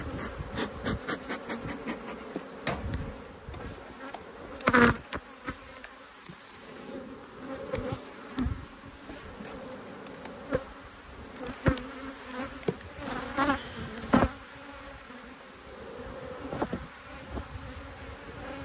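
Honey bees buzzing around an open hive, a dense steady hum close by, with individual bees zipping past the microphone in brief louder swells.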